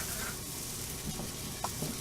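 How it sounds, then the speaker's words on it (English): Buttered bread sizzles steadily in a hot frying pan at breakfast, a continuous soft crackle with a few faint clinks and scrapes, close and alone. "you want to save this part because you can stick it in the frying pan"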